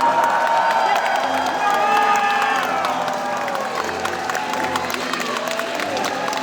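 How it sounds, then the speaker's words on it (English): A theater audience at a Godzilla movie screening cheers and shouts in a sustained, dense roar of crowd noise, with scattered voices rising above the din. "the cheering was excessive"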